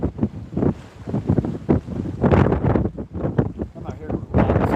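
Wind gusts buffet the microphone at a lake during cold-weather bobber fishing, loud rumbling bursts rising and falling in uneven surges with no clear speech.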